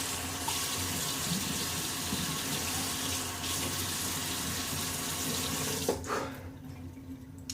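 Hot water runs steadily from a bathroom sink tap, a continuous close hiss that carries on for most of the clip before cutting off sharply near the end.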